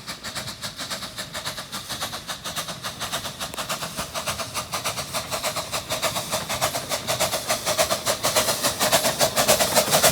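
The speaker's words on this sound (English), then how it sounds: "this time it was powered by the Challenger locomotive" A miniature train pulled by the Challenger locomotive at the Hesston Steam Museum arrives with a rapid, regular chuffing beat that grows gradually louder as it approaches, with no talk.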